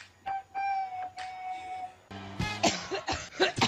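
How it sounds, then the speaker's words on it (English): A person clears their throat with a few short, rough coughing bursts close to the mic, mixed with a short stretch of music and some voice sounds. "Let me clear my throat."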